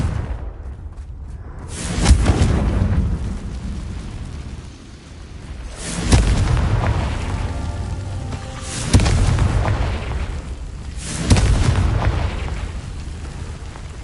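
Fire spell blasts from the Hogwarts Legacy video game go off as a series of heavy booming explosions, four or so spaced a few seconds apart, each swelling and rumbling out, with no talk.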